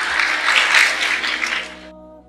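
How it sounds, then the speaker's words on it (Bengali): Audience clapping at a lecture, a dense steady patter of many hands that swells and then cuts off abruptly near the end, leaving only faint low hum. "হাততালি থামাও"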